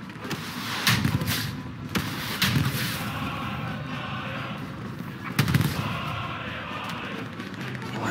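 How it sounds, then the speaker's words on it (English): Enemy gunfire close by in the World War II shooter game Hell Let Loose, heard as sharp cracks and short bursts at irregular intervals over a rumbling battlefield background. "That is a sound of an enemy firing nearby."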